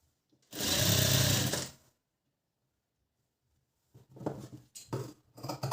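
A sewing machine topstitching along a garment edge, running in one loud, close burst of about a second, then several short stop-start bursts after a pause.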